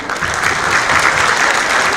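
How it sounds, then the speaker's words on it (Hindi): Steady, loud applause from a comedy poetry show audience in Dubai, dense clapping continuing evenly throughout without talk. "एक बार महिलाओं के लिए तालियां बजाइए।"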